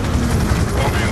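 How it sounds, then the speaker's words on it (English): Dense, continuous automatic gunfire from a Black Ops 2 campaign street battle in 2025 U.S.A., sustained volleys roaring without a break and loud throughout. "We're taking fire from all sides!"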